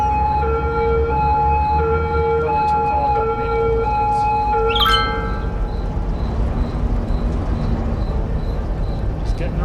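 A police car siren in the city-building game Cities Skylines, a steady wailing tone over traffic noise in the first half, then fading out under a background of low game ambience.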